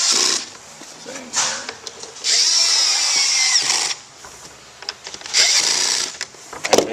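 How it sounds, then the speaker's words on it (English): Small electric screw gun driving air filter housing screws on a Mercedes ML350 (W164), with several whirring bursts that rise and stop, the longest lasting about two seconds, close by and with no talk. "We use a little electric gun."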